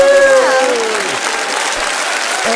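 Canned applause from a soundboard, a burst of dense clapping with a brief falling electronic tone at the start, holding steady for a couple of seconds.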